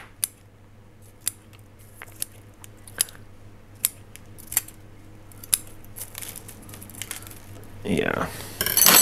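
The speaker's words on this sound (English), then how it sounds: "cut out these roots." Scissors cutting orchid roots while mounting an orchid, a run of small sharp snips spaced about a second apart against a steady low hum, followed by a rustling burst at the end.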